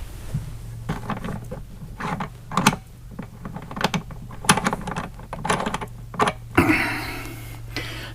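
A part of a home water filter system is unscrewed, giving a series of close plastic creaks, clicks and ratcheting scrapes in uneven bursts with no talk.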